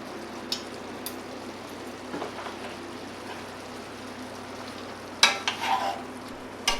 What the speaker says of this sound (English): let's get our pasta in the sauce. It's simmering nicely.